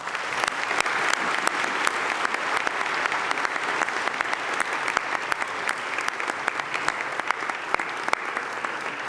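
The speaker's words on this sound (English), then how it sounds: "So I would love for all of us to give the full senior class a round of applause." Audience at a school Awards Day ceremony applauding the senior class, a steady, dense clapping that fills the room from start to finish with no talk over it.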